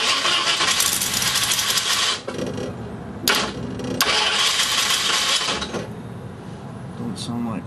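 A Ford 331 stroker V8 engine, unused for five years, cranks with a rapid whirring starter, pauses, and cranks again before catching into a loud, rough idle; loud and close.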